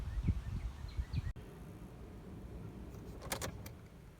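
Someone climbs into a pickup truck out at a cattle pasture. Rustling movement leads to a sharp door click, then a quiet stretch and a short bright jingle of keys close by.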